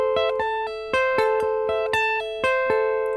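Guitar sweep picking with the fretting fingers held down, so each plucked note keeps ringing into the next; a steady run of about a dozen close, clear picked attacks with overlapping sustain, no talking.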